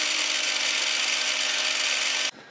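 A miter saw motor whines steadily with its speed controller set to 50%, a loud close continuous drone that cuts off abruptly near the end, leaving quieter room noise.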